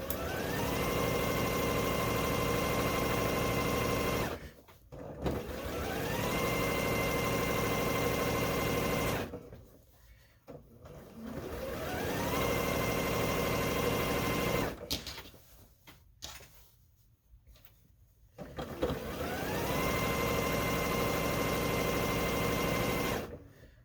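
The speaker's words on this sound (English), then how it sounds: "we're just going to sew all the way around" Sewing machine stitching all the way around a fabric table runner made from Halloween print fabric, running in steady mechanical bursts of several seconds, each ramping up and then stopping, with short pauses between runs.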